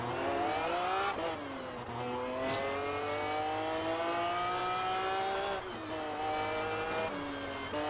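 A stage 3 tuned Saleen S7 supercar in Test Drive Unlimited revs hard toward its rev limiter, a loud, sustained engine howl whose pitch climbs steadily, with brief dips around gear changes.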